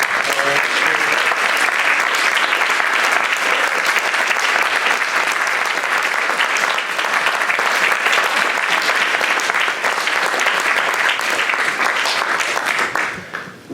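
A lecture audience at the Ockham Lecture applauds with steady, dense clapping that holds at full strength for about thirteen seconds, then quickly dies away at the end.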